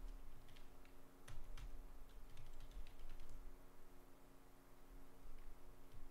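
Someone types on a malfunctioning computer keyboard, producing faint, sparse, irregular key clicks in small clusters over a low background hum.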